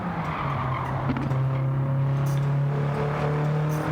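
A race car in Gran Turismo 7 holds a steady, loud engine drone under braking into a hairpin, with scattered sharp crackles and pops from the exhaust and a hint of tire squeal throughout.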